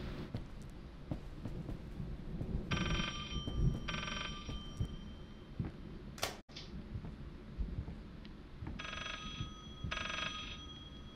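A telephone rings in the horror video game Layers of Fear, two paired bursts of ringing early and two more near the end, set against a low rumbling storm-like ambience with a sharp crash in the middle.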